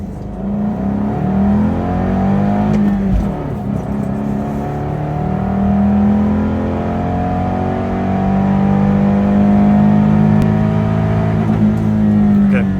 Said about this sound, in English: Let's do an NA pull real quick from bottom of first to the top of second